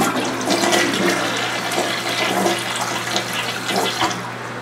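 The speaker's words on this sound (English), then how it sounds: "I'm gonna flush it again" A backed-up, clogged toilet is flushed, giving a loud, close, continuous rush and swirl of water with a steady low hum underneath and no speech.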